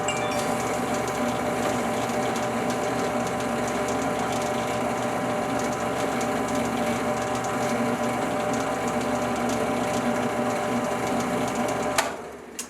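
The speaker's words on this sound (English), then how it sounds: "Work it back and forth, and that's going to heat that beeswax up in there" A beeswaxed leather edge is burnished back and forth, making a steady, fast, dense rubbing whir that holds an even level for about twelve seconds before it stops abruptly.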